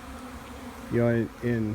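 Honey bees buzz at a Texas apiary during a hive check, as a close, steady drone that swells in two loud passes near the microphone, with faint speech at the start.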